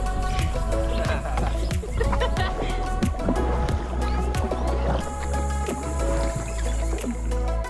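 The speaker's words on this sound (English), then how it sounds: "we're gonna take boats and paddle over to the waterfall" Paddles splash and dip as boats move along a river toward a waterfall, with irregular knocks and water gurgling close by and faint voices in the background.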